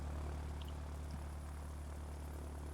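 A Spitfire aircraft engine in the video game Ground of Aces drones steadily and faintly, a low propeller hum that holds even and unbroken throughout.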